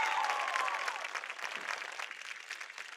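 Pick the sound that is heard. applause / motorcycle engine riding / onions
applause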